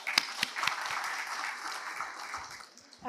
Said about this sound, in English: a big round of applause for us